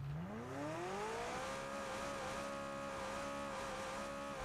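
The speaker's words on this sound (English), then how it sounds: "rev that shit" A McLaren car's engine revving in PUBG, a smooth rising tone climbing in pitch over the first second and then holding at a steady high rev, moderately loud and unbroken, with no talk over it.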